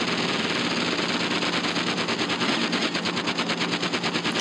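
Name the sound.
car machine gun firing in video game Interstate 76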